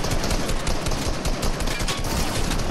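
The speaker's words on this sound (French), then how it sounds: "Oh ouais, il me tire lui" Rapid, continuous automatic gunfire in Fortnite, a dense, loud rattle of overlapping shots throughout, with no clear breaks.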